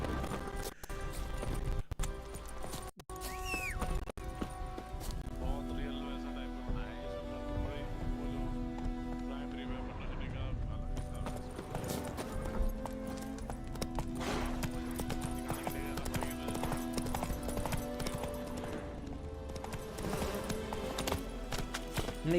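Horse hooves clip-clopping steadily in The Witcher 3, a continuous rhythmic trot under game music and ambience, moderately close and running throughout.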